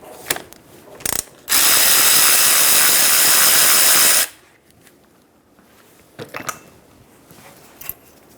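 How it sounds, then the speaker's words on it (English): A power tool with a 14mm socket spins out the lower rear brake caliper bolt on a 2010-2014 Subaru Outback in one loud, close burst of about three seconds, set between quieter clicks and handling noises. "Using a 14mm socket, remove the lower caliper bolt."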